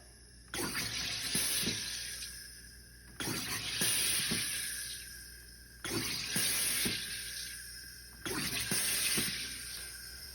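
A countertop soda maker carbonating water, four loud hissing bursts of gas about every two and a half seconds, each with a sharp start and trailing fizz, close by and without talk.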